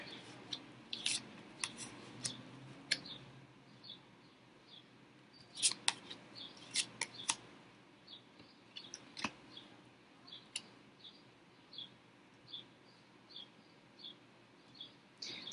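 Cards are handled and sorted on a table, making quiet, scattered crisp snaps and flicks over a faint room hush, with no voices.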